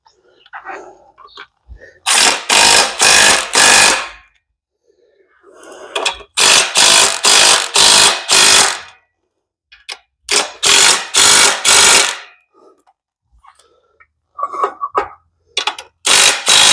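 A socket wrench ratchets while tightening the clutch pressure plate bolts on a big-block Chevy engine build. It comes as three loud bursts of rapid clicks, each about two seconds long, separated by pauses with faint handling noises.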